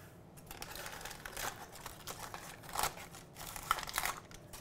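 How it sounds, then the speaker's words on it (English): Scissors snipping through crinkly packaging in a kitchen while baking brookies, irregular close crackles and crisp cuts with a few sharper snips, no talking. "I'll cut it with the scissors"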